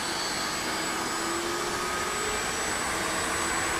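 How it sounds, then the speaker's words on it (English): A helicopter turbine engine spools up in the DCS World flight simulator, a loud, even roar with a steady high whine held throughout, no voices over it. "you'll see the engine starting, we'll hear them, and the rotor starts turning."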